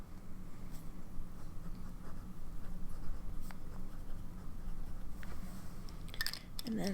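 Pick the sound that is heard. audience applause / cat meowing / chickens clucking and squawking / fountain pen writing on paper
fountain pen writing on paper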